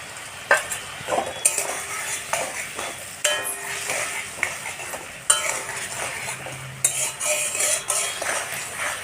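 Potatoes going into hot oil with a spice paste for a spicy hilsa fish curry, sizzling and frying loudly while a utensil scrapes and stirs in repeated bursts, with occasional clinks against the pan.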